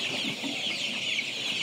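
Paragon Color Bat meat chickens cluck steadily on a farm, a continuous close flock chatter with overlapping soft calls and no voices.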